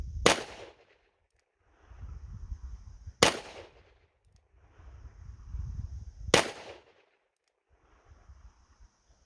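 A Smith & Wesson Model 27 revolver fires three loud, sharp shots about three seconds apart, each followed by a short echoing tail, with quiet stretches between.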